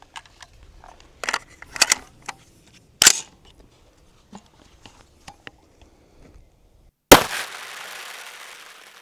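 Two sharp, loud 7.62 FMJ rifle shots punch into soybean bags, several seconds apart, the second followed by a lingering hiss of scattering beans, with quiet scattered clicks and handling noises between them.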